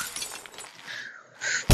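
Glass shatters in the Happy Wheels video game, a bright crackling break that runs through the short moment and ends with a sharp loud hit, with no talk.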